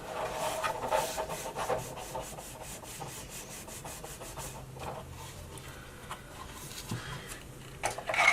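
Fingers rub along the edges of a paper gift box, making soft, close scraping and rubbing strokes in a rough repeating rhythm with short pauses.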